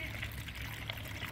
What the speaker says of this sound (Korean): 막 물이 엄청 들어가요.